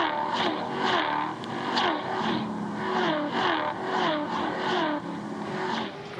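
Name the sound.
race car driving on circuit during lap 3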